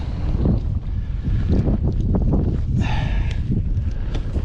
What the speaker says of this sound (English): Of course, the wind's going to kick up right when this happens